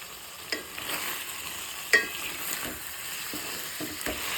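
Eggplant curry with a tablespoon of chili powder being stirred in a pan, soft scraping strokes spaced through a steady low sizzle, close and moderately quiet.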